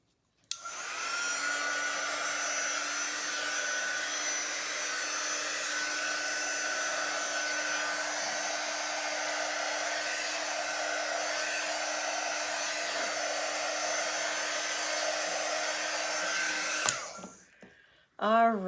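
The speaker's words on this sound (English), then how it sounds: "Okay, let's dry that." A hair dryer blows steadily on a freshly wiped craft piece, a loud, even whine that runs for about sixteen seconds before switching off, followed by brief handling noise.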